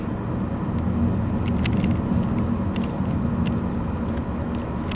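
Steady road and engine rumble heard from inside a car driving along a river byway, a continuous close drone with faint ticks and knocks throughout and no talk.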